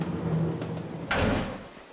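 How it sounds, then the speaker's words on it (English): An indoor door opens and shuts: a muffled creak and slide followed by a firmer thud as it closes, close by and alone over a steady room background. "I opened the door, walked out, and closed the door behind me."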